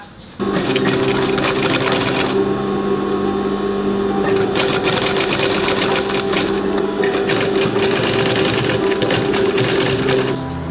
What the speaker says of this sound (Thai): ไปเย็บกระเป๋าติดใส่ด้านหลังกันเลยครับ